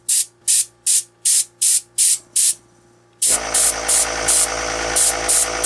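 Short bursts of aerosol spray paint hiss in a quick even rhythm as a light coat goes onto a custom SH Figuarts Ultraman Kaiser Belial figure, then a steady loud hair dryer takes over with faint extra spray bursts.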